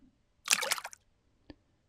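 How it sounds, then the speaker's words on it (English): A small splash of water, like a frog jumping into an old pond, lands as one short burst followed by a single faint drip a second later, close and quiet. "Sound of water."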